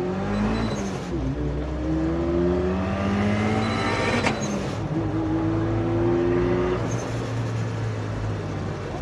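A car engine is held at high RPM for a launch test after a spark plug change. It revs loudly in repeated rising surges with gear-like pitch sweeps, and there is no speech.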